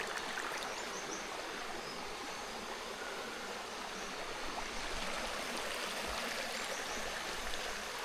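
Steady rushing water of a flowing stream, a constant broadband babble with no voices, close and even throughout.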